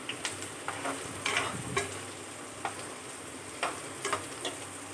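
Chillies sizzle steadily in a hot pan while a utensil scrapes and taps against it every so often.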